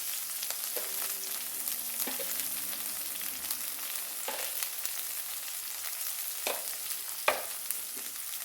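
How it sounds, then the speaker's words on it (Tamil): Onions and bottle gourd sauté in a pan with a steady low sizzle, joined by occasional sharper clinks and scrapes from stirring; no one speaks. "கொஞ்சம் வெங்காயம் வதங்கிடட்டும்"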